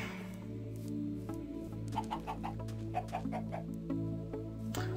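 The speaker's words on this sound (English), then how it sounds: "Chicken." Clucking from a chicken in the Minecraft video game comes through as several short, faint calls over a steady background hum, with no talking.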